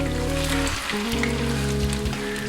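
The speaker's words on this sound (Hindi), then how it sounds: "ऑयल गर्म हो गया, अब मैं इसके अंदर चिकन मिक्स करूंगी। इस चिकन को मैंने फ्राई करना है" Chicken coated in cornflour and egg frying in hot oil in a pan over a medium flame, a steady loud sizzle and crackle throughout alongside a low background hum.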